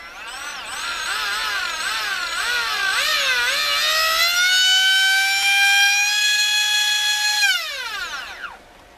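A rebuilt Leopard 4082 2000KV brushless motor whines up in pitch, wavering as it revs, then holds a steady high scream before winding down sharply at the end, loud and close with no talking.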